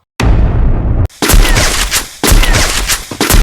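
Heavy gunfire bursts in the Free Fire game, where an AWM sniper rifle is fired, come as loud, dense blasts in three long sections separated by brief silences, close and intense with no voices.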